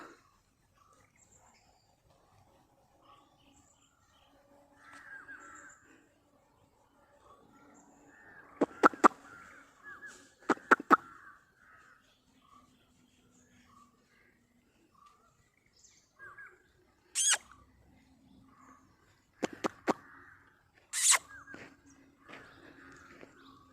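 Birds call outdoors in a quiet setting, with soft scattered chirps and a few sharp, louder caws from crows now and then, while faint voices murmur in the background.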